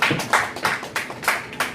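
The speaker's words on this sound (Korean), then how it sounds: "우리 하나님께 영광의 박수 한번 올려드리겠습니다." A church congregation at a Sunday high-school worship service claps in loud, rhythmic bursts, about three or four even claps per second, with no speech over it.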